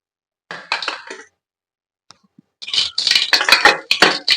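Mustard seeds and urad dal sputter in hot oil in a pan, with loud, close bursts of sharp crackling pops, first a short cluster and then a denser run after a brief quiet.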